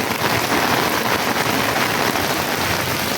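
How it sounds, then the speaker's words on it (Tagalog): Heavy rain drums steadily on a transparent umbrella, a dense, loud, unbroken hiss of drops close overhead during a downpour. "Ayan ang ulan sa bubong ng payong."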